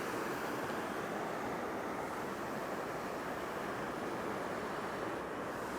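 Waterfalls make a steady, broad rushing roar of falling water that holds an even loudness throughout, with no voices.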